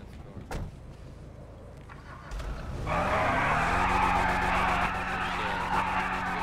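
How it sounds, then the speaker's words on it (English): A car in GTA V FiveM roleplay revs into a burnout, tyres skidding and squealing in a loud, sustained screech after a door thud and engine rumble. "Keep on throwing burnouts and see what's gonna happen."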